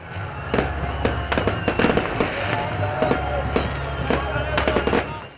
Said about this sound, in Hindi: बहरिया टाउन लाहौर में जश्न की सबसे बड़ी तकरीब का एहतमाम किया गया, जहां शानदार आतिशबाजी की गई।